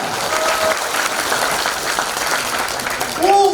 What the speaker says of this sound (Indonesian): Tepuk tangan yang meriah buat Anda.